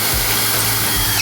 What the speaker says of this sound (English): I'm going to drill straight through the holes that are already on the fridge slide here